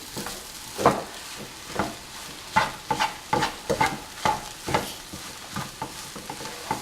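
Kothu parotta being stirred and scraped in a frying pan, a steady run of clanking, scraping strokes with a soft sizzle underneath.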